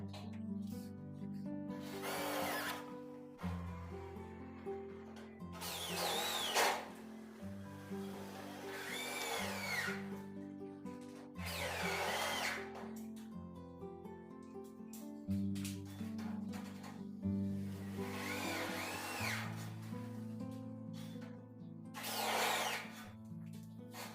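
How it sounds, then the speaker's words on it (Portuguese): A power drill drives screws into the caps of a tilting gate kit box in repeated bursts, each whining spin rising and stopping with pauses between, close and fairly loud. "parafusar as tampas do kit caixa do portão"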